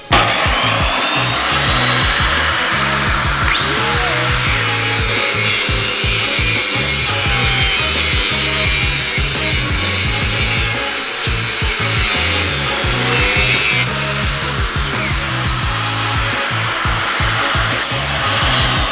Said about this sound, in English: I'm going to be using an angle grinder with a 780 watt rating